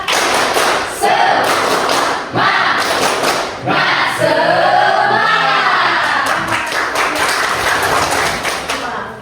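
Schoolchildren in a classroom perform the tepuk semangat clapping chant, with loud rhythmic group claps and thumps in bursts alongside shouted chanting voices, filling the whole stretch before tapering off.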